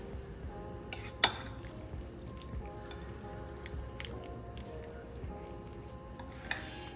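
Cottage cheese, sour cream and cream cheese are mixed together in a bowl, with quiet soft squishy stirring, a few faint utensil clinks and one sharper tap near the start.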